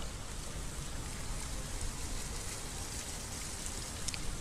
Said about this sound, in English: it's just started pouring with rain